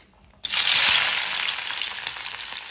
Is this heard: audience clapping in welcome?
no